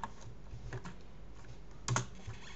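Soft clicks of typing on a computer keyboard, a steady stream of keystrokes with one louder cluster near the end, close and quiet with no talk.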